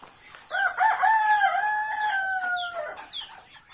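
Backyard chickens waiting to be fed, led by a rooster's loud, drawn-out crow close by, with softer clucks from the flock around it under drizzly, overcast weather.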